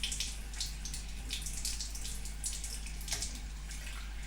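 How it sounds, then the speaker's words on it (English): Tap water runs steadily in a bathroom sink while someone rinses their face, a soft continuous splashing hiss with small irregular spatters and no talking. "now I'm just gonna go rinse my face off."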